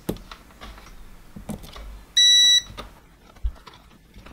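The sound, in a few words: electrical tester beeping on a connected cable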